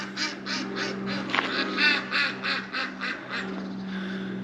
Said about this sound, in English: Apologies about the ducks.